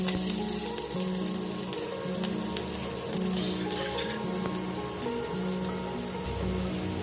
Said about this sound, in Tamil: பூண்டு எண்ணெயில் பொரிக்க போகிறோம்